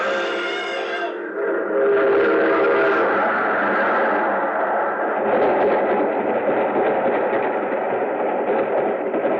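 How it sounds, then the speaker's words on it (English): A freight train rumbles loudly and continuously as it approaches and passes close by, its clattering roar filling the scene, with a horn-like harmonic blast at the start. "There's a train coming."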